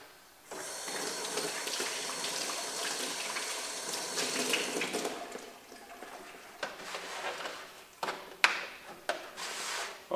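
Tap water runs steadily from a faucet as hands rinse hydrogen peroxide off under the stream, a close, continuous gush with brief splashes and shifts toward the end; no talking.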